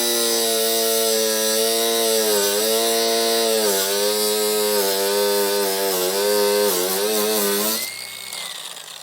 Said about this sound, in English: So I'm going to start with my angle grinder and see where it gets us.